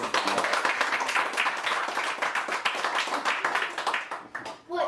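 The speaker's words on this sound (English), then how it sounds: "So I think Todd also should get a round of applause for making this a fun film" Studio audience on a talk show clapping for a film director, dense steady applause that holds for about four seconds before thinning out and fading at the end.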